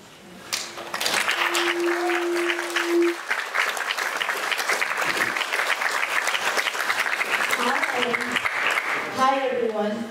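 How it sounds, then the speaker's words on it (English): Audience applause at an evening arts event, dense clapping that swells in after a brief tone and continues steadily, with a voice beginning to speak near the end. "Please join me in giving a tremendous amount of applause to Sylvère and Lodovico"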